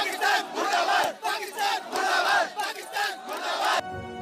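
A protest crowd chants anti-Pakistan slogans in unison, loud and near, with rhythmic shouted phrases repeating several times before a brief cut-off at the end.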